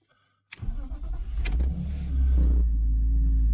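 A BMW M52 engine cranks and catches after a brief silence on a cold start after sitting a day, then settles into a steady, rough idle close by, its low rumble rising slightly.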